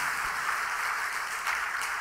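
Congregation applause at a Sunday evening church service fills the space in a steady, dense wash of clapping. It sounds moderately distant and fairly soft, with no speech over it.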